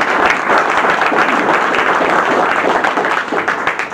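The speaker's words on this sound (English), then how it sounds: "So big round of applause for them all." An audience at a public planning workshop breaks into loud, full applause, a thick continuous patter of many hands that holds steady and begins to taper at the end.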